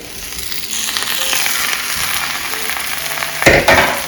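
Sweet potato hash sizzles loudly in a pan, a close, steady frying crackle with a sharper scrape of stirring near the end and no speech.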